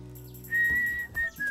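A person whistles a short, rising tone that holds steady, breaks briefly, then resumes, close by with a low hum underneath.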